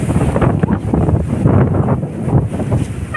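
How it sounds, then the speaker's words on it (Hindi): Strong storm wind roars outdoors in the early evening, loud, rumbling gusts buffeting the microphone continuously. "बहुत ज़ोर की हवा चल रही है"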